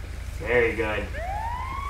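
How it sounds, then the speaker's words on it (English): An ambulance siren from the GTA V game with the LSPDFR police mod, a rising wail sweeping upward near the end, heard fairly faintly under a voice speaking briefly. "Ambulance. Perfect."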